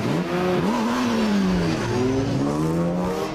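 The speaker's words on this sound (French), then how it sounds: "Lou, jeune pilote au championnat de France de drift face à un Nicolas Dufour très expérimenté." Drift cars run in a French drift championship at Croix-en-Ternois, with a loud, close engine revving and bouncing between rising and falling pitches as tires squeal through the slide, with no voices over it.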